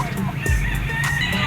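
Chickens and roosters cluck and call at a busy Wednesday poultry market in the Philippines, a short burst of bird sounds mixed with nearby crowd noise.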